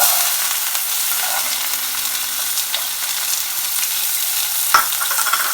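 Onions sizzling in hot oil for a chicken lasagna base, a loud, dense, continuous crackle close to the pan with one sharper pop near the end and no talk.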